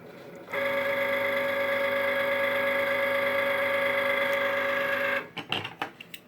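Cricut cutting machine switches on and runs with a steady mechanical whine and hum for several seconds, then stops with a few scattered clicks and knocks.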